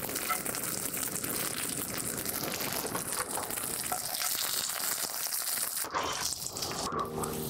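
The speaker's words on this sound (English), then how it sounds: "A little bit of butter, shallots go in." Shallots sizzle in butter in a very hot pan, a dense, loud, continuous frying crackle heard close up, thinning slightly toward the end.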